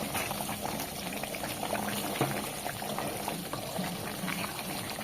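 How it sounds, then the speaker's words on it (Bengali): Mutton with bay leaves and sour yogurt cooking down in a pan, giving a steady soft bubbling and sizzling with faint crackles throughout, fairly quiet and without talk. "এই মটনের ভেতরে ধুয়ে রাখা চারটে তেজপাতা অ্যাড করে দেব আর ভালো করে মাংসটাকে আবারও কষাতে থাকবো"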